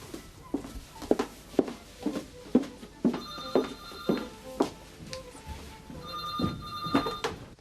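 Telephone bell rings in a repeating trill, several bursts sounding moderately near in a quiet room with faint knocks between rings.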